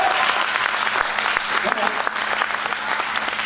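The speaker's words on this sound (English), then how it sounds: "go ahead and give the Lord a hand clap and praise God." A church congregation claps hands in praise, a dense sustained wash of applause from many people, loud and steady throughout.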